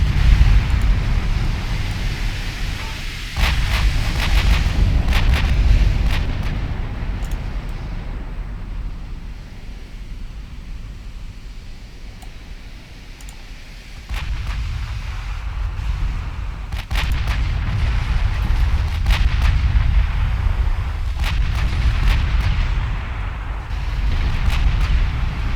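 Heavy 14-inch naval guns booming in Ultimate Admiral Dreadnoughts during a fleet battle off Samar, a dense rolling barrage of deep blasts and rumbling echoes that surges, eases mid-way, then builds again.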